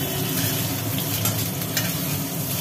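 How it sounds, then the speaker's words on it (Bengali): Potatoes frying in a pan in a home kitchen, a steady dense sizzle with light stirring scrapes running unbroken throughout, close and fairly loud with no voices. "আলুগুলো ভাজি ভাজি করা হচ্ছে"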